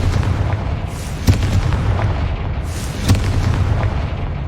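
Confringo fire spell explosions in Hogwarts Legacy, two heavy booming blasts about two seconds apart over a dense, rumbling game soundscape, with no voices.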